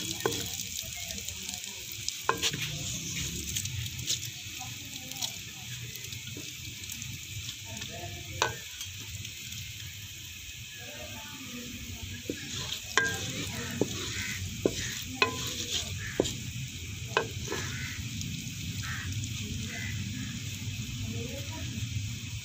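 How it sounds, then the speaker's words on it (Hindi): Whole spices fry in hot oil for a dhaba-style beef masala curry, giving a steady close sizzle with scattered stirring clicks and scrapes throughout, and a faint voice now and then underneath. "आधा मिनट या 1 मिनट तक हम इनको फ्राई कर लेंगे"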